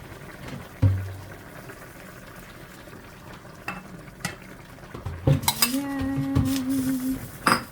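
A utensil scrapes and clinks against a pot as beaten egg is stirred into simmering fish sarciado, with a few sharp metal knocks, soft bubbling and a rising ringing scrape near the end.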